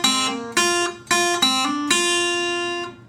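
Four plucked guitar notes in a blues song, each a bright, ringing attack with the last left to sustain and fade; clear and close, with no talking.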